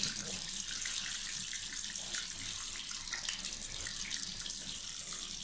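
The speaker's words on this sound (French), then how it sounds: "l'eau chaude est arrivée, donc je fais carrément tremper ma toile sous l'eau" Hot tap water runs steadily into a sink, soaking an embroidery canvas under the stream; a continuous close hiss and splash lasts throughout with no talk.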